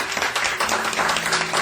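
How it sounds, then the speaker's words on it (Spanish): A church congregation applauds together in a dense, continuous wash of clapping that fills the room, with no break during the short burst. "Un aplauso al Señor"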